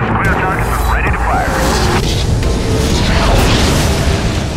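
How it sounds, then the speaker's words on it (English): Artillery strike pounding a military base in the Prototype video game, with loud continuous booming explosions and rumble filling the whole stretch, while radio-style voices talk over the blasts. "Here we're going to destroy a base, which is one of the objectives of this mission, by using the artillery strike ability of the commander."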